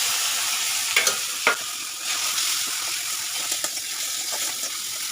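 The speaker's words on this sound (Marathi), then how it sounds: "कांदा टमॅटो असं परतून घेतलं" Onion and tomato sauté on a hot griddle pan, giving a steady loud sizzle with a few sharp stirring clicks and scrapes throughout, no voices.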